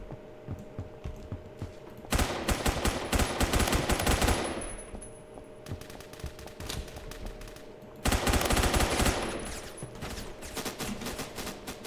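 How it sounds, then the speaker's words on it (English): Assault rifle fire in the Roblox first-person shooter Phantom Forces, two loud sustained automatic bursts of rapid shots separated by quieter stretches of distant background gunfire. "let's switch over to assault rifle"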